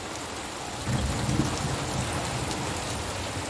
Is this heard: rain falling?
yes